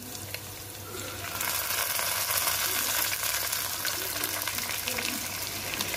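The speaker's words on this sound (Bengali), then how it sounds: "একটা ডিম দিয়ে দিলাম আর এইভাবেই আমি এখন এটাকে ভাজা ভাজা করে নিচ্ছি" An egg with salt fries in hot oil, a loud continuous bright sizzle that swells after a quieter start and holds steady to the end.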